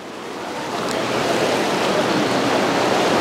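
Flowing Himalayan river water, a loud, steady, close rush of broadband noise that grows a little louder at the start and then holds even, with no voices.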